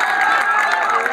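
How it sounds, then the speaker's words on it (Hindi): Audience at a mushaira poetry recital clapping and cheering together, a loud, sustained crowd roar with continuous hand claps close to the microphone. "बजाओ ताली"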